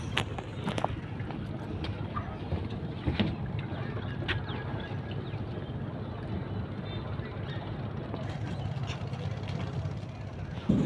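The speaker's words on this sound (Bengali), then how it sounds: "আমাদের নৌকাটি ইঞ্জিন স্টার্ট দিয়ে ফেলেছে" An engine boat on a river ferry crossing at Narayanganj gives a steady low rumble throughout, with a few faint knocks on top and background noise from the crossing.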